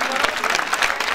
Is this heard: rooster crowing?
no